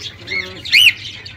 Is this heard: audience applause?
no